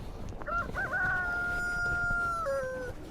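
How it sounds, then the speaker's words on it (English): A rooster crows a long drawn-out call nearby, over a low outdoor background with faint other fowl sounds. "Crazy chickens. Stupid geese."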